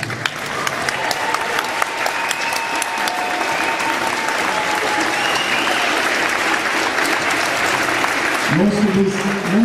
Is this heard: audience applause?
yes